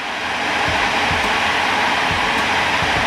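A MelodySusie SM320G limited-edition electric nail drill runs at speed with a steady, close, loud whirring hum and no voices.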